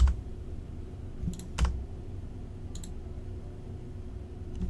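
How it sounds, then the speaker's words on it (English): Typing on a K70 computer keyboard: a few scattered, faint key clicks over a low background hum, with no voices. "what is that keyboard? Is it loud? It probably is loud."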